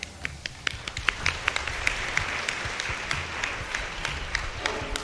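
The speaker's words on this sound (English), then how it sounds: "Let us hear the applause coming out for our children." Applause at a school ceremony honouring volleyball runners-up, a crowd clapping steadily with a few sharp, close claps standing out over the general patter.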